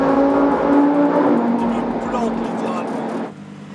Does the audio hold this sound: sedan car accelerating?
yes